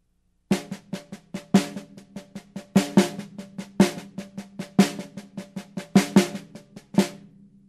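A syncopated accent pattern from a drum book played on a snare, steady rhythmic strokes with louder accented hits standing out among softer notes, close and alone, about seven seconds.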